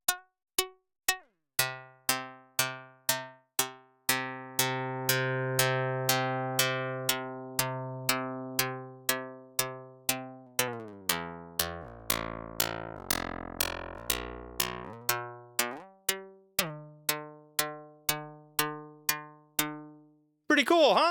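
A Karplus-Strong plucked-string model built in Pure Data Vanilla sounds a series of bright, decaying plucked notes at varying pitches, some sustaining longer with fuller tone, in a steady rhythm with no talking.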